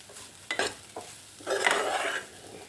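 Grated coconut and shallots are roasted in a pan for chemmeen theeyal, and a spoon scrapes and stirs them in a few short close strokes over a soft, dry sizzle.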